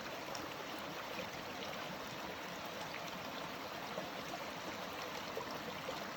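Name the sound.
stream flowing near a small metal bridge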